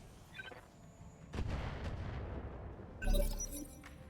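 Mech weapons firing in the BattleTech RogueTech video game: a deep booming volley around the middle, then a second loud blast near the end, over a constant low rumble with no talk.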